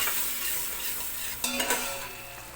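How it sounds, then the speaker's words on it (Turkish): Onion browning in butter in a soup pot sizzles steadily, then a short burst of stirring scrapes and clinks cuts in around halfway before the frying hiss settles again. "Soğan iyice kavrulsun."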